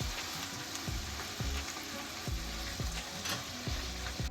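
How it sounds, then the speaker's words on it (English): Chicken fries in a pan with a loud, continuous crackling sizzle, broken by repeated scraping and stirring knocks at an uneven rhythm, close up and with no voices. "I had the chicken frying for about 10 minutes"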